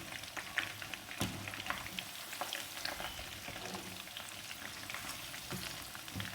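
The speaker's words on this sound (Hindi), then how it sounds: "2 से 3 मिनट हो चुके हैं चिकन पकौड़े को पकते हुए" Chicken pakoras fry in hot oil with a steady, close crackling sizzle and scattered sharp pops throughout, with no talking.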